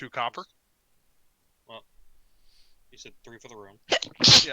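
A single sharp, loud sneeze bursts out near the end, close to the microphone, following scattered conversational talk among tabletop role-playing game players.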